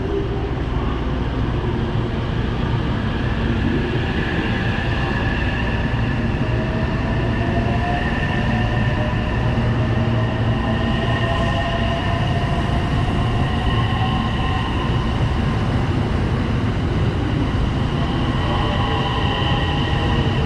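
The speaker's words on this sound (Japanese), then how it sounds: "電車発車していきましたね" A JR Kyoto Line train departing Osaka Station rumbles steadily and loudly for the whole stretch, with a continuous low roar and faint metallic whines as it pulls away.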